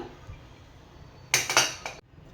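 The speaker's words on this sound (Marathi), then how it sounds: "आता कुकरचं झाकण उघडून बघूया" A cooled pressure cooker has its lid opened, a short burst of metallic clattering and clinking lasting under a second after near quiet, with no talk.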